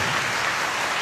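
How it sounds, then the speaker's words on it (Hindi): A church congregation claps together in a steady, dense burst of applause filling the room, with no talk over it. "एक अच्छी ताली सिर्फ प्रभु यीशु के लिए, थोड़ा जोर से"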